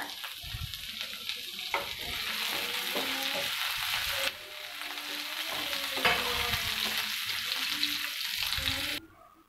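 Chopped tomato and vegetables frying with masala on full flame in a pan while homemade Maggi masala is made, giving a steady, close hiss of sizzling oil with intermittent scraping and stirring knocks throughout.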